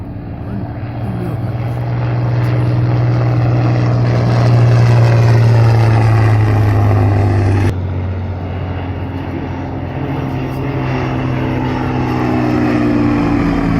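A vintage biplane powered by a Rolls-Royce Kestrel engine flies past at an evening airshow at Shuttleworth, its steady propeller drone loud and sustained, dipping briefly partway before continuing.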